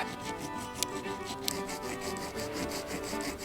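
A Leatherman multi-tool scrapes along a log to scribe a mark, giving a steady, close rasping rub with a couple of sharp ticks, no voices.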